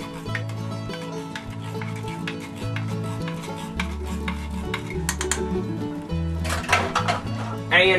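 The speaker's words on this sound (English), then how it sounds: "Stir that around a little bit" Spoon stirring a beef and noodle casserole mixture in a pot, scraping and clinking close up under a steady hum, with a louder clattering stir near the end.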